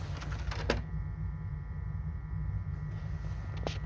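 A mint-condition Xbox 360 disc drive spins with a quiet, steady motorized whir and hum, marked by a couple of faint clicks near the start and end.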